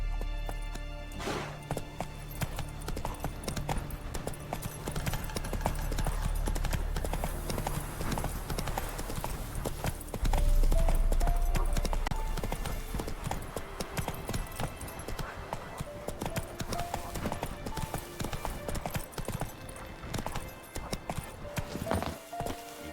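A horse's hooves beat a steady, rhythmic clip-clop across the ground in The Witcher 3, continuing close and clear for the whole stretch.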